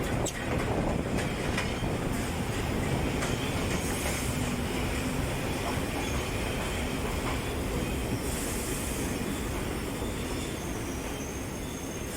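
A train rumbles steadily along the tracks toward China Bay station near Trincomalee, Sri Lanka, with a constant loud roar, rattling wheels and occasional high metallic squeals, no voices.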